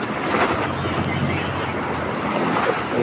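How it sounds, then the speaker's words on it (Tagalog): Strong wind buffets a fishing boat heading out to open sea, a steady loud roar with waves washing against the hull throughout. "Hangin."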